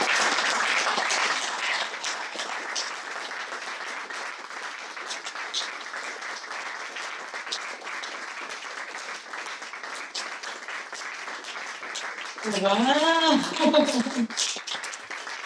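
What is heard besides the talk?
audience applause after a poetry reading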